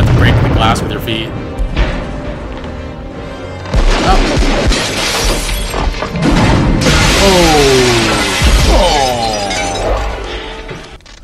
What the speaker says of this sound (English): You're gonna have to break the glass with your feet.